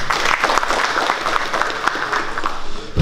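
Applause for the village mayor of Mielec at a 2017 traffic police event: a crowd claps steadily and loudly for about three seconds, dense and even, with no voices over it.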